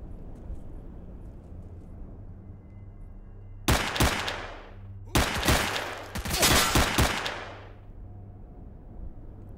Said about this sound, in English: They're just shooting underneath the fence.